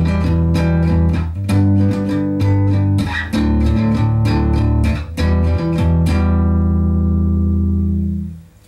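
Chords on a bass guitar, several notes ringing together, strummed repeatedly in a steady pattern. Each chord sustains clearly, then the last one rings out and fades to silence, with no talking.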